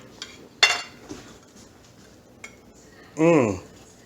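A knife works through a fried ham and cheese sandwich on a plate, giving a few soft scrapes and clinks against the dish, with a louder scraping stroke near the end, quiet and close.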